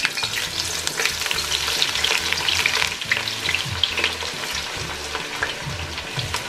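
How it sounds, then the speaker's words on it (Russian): Chopped onion fries in oil in a pan with a steady, crackling sizzle, stirred now and then, close and loud with no talk over it. "Обжариваем лук до золотистого цвета."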